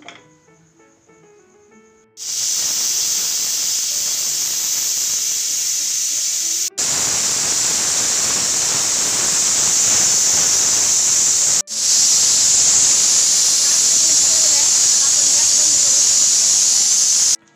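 A pressure cooker vents steam in a loud, continuous hiss that starts abruptly after a quiet moment and runs on steadily with two brief breaks.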